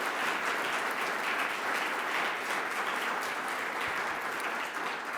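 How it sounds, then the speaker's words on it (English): Audience at a metropolitan club talk gives a sustained round of applause, a continuous even roar of many hands clapping, moderately loud and uninterrupted throughout. "Let's give them a big round of applause one more time"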